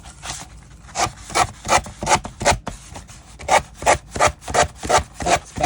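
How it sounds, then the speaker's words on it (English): Sandpaper rubbing back and forth on wood in steady, regular strokes, about a dozen rasping passes, close and fairly loud with no talking. "I'm just sanding in a downward motion"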